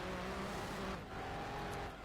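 A fast, aggressive-sounding car in Gran Turismo 2 roars with a steady, loud engine drone, holding a sustained revving tone throughout with no talking.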